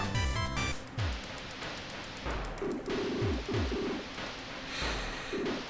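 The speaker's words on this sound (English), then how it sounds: "Birds." Birds in the retro platformer Cave Story make short, repeated cooing chirps that sit over busy chiptune background music at a steady moderate level.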